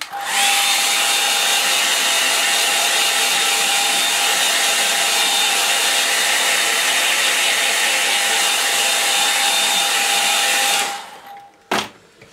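A hair dryer blows loud and steady on a line and wash watercolour painting of Brittany cottages, a constant close whoosh with a faint whine, then it switches off near the end with a brief clatter.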